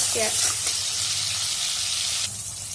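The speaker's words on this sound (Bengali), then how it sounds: "পেঁয়াজগুলো ভাজা ভাজা হয়েছে, চিংড়ি মাছগুলো দিয়ে দেবো।" Sliced onions with a pinch of salt fry in a hot pan, giving a steady, close sizzling hiss that drops slightly near the end.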